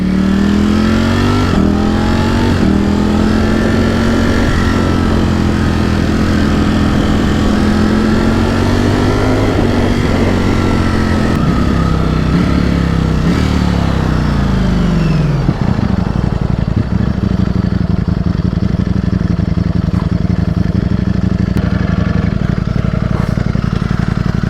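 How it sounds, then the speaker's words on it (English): A 2020 Ducati StreetFighter V4S on a road test ride, its engine droning loud and steady with rising and falling revs as it pulls along, wind rush mixed in, easing to a lower rumble near the end. "the test ride of the 2020 Ducati StreetFighter V4S"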